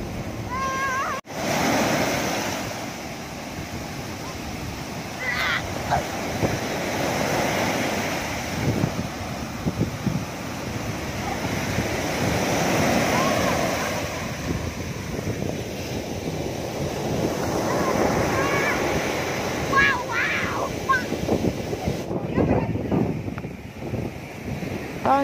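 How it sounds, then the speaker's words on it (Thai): Big ocean waves crash against the shore and a seawall on Samui, a continuous rumbling surge mixed with wind buffeting the microphone and no clear talk. "เห็นไหมครับตรงที่คลื่นมันกระทบฝั่ง"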